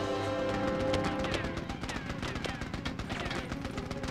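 Turret gunfire in Mercenaries: Playground of Destruction on PS2, a dense, continuous stream of rapid shots rattling at steady loudness for several seconds amid game battle noise.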